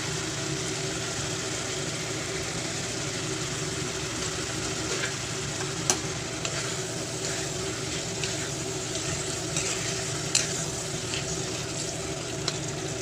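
Boiled jackfruit seeds dropped into a curry of black yam leaves and small fish simmering in a pan, giving a steady low sizzle and bubbling with a few faint clinks, and no voices.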